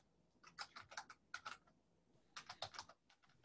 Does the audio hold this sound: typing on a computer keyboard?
yes